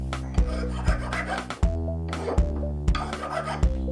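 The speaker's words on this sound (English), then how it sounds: "I'm going to clean it up around here with some files" Hand files rasping over an aluminum prop knife blade in repeated strokes, with sharp scraping bursts at an uneven rhythm, close and fairly loud against a tonal background.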